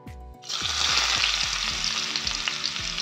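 Onion hitting hot oil with a pinch of asafoetida and cumin seeds, a loud close sizzle that bursts up and holds steady as a dense hiss over low rhythmic thumps, no voices.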